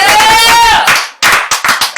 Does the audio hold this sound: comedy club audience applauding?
yes